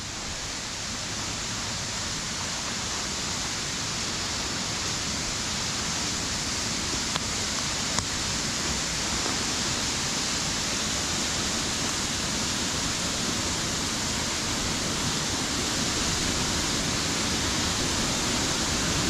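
Water from a small waterfall at Harmby rushes through a passage beneath a road, a steady dense roar of falling and splashing water that stays loud and unbroken throughout, with no voices.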